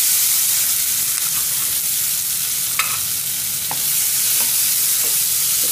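Onions frying in a pan for a sandwich filling hiss in a loud, steady, close-up sizzle, with a few faint clinks of stirring scattered through.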